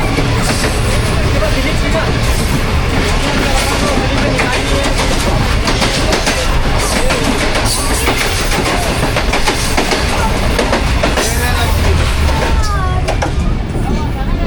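A train passing through a railway station on the Rehman Baba Express route, with steady loud rumbling and rhythmic clatter throughout, under faint voices.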